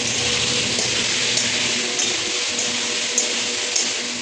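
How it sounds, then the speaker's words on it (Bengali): Meat simmers in a pot on the stove, a steady close bubbling and hissing with faint occasional clinks, no voices. "আর এদিকে মাংস সেদ্ধ হচ্ছে।"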